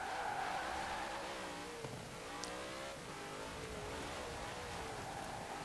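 A 2019 Zenvo TSR-S accelerating at high speed in Forza Horizon 4, its engine holding a continuous loud roar with rising and shifting tones and a brief squeal partway through.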